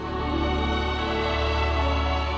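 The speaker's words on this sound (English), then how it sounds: "it uses a slower, orchestral version of the Bastion's flight theme" Slow orchestral version of the flight theme from the original German cut of The NeverEnding Story, with sustained string-like chords over a low held bass, swelling gently and evenly with no voices.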